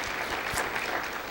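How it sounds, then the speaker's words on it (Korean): A church congregation applauds to welcome visitors, producing a steady, full roomful of clapping that stays even and fairly loud throughout, with no speech over it. "우리 박수로 한번 환영하도록 하겠습니다."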